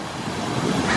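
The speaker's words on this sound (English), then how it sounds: "I love the sound of that water" Rushing water along the Ice Age Trail in Oregon's Tualatin Valley, a steady broadband wash that holds close and fairly loud for about a second, with no voices.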